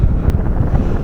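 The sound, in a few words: strong wind on a hilltop escarpment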